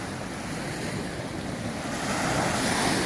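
Caribbean sea waves wash steadily onto a warm beach at Juan Dolio in the Dominican Republic, a continuous broad surf roar with wind buffeting the microphone, swelling slightly louder toward the end.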